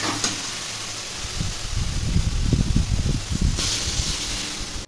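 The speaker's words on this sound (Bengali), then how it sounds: "এখন জল দিয়ে দেবো।" Water is poured into a pan of sautéed curry masala in a home kitchen, bringing a rising, bubbling hiss and sizzle that swells in the middle and then settles into a steady simmering hiss over background hum. No talk is heard.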